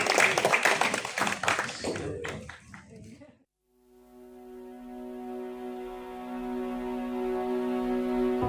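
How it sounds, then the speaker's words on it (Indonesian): Wedding guests in a chapel give the newly married couple a short burst of clapping that lasts about three seconds and then stops. Sustained music with steady tones follows. "Kita berikan tepuk tangan untuk kedua mempelai."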